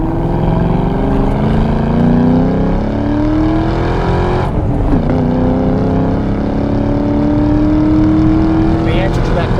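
A 2004 Ford Mustang Mach 1 with a 5-speed manual accelerates hard in second gear, its loud engine drone rising steadily in pitch, dipping briefly, then climbing again, heard from inside the car.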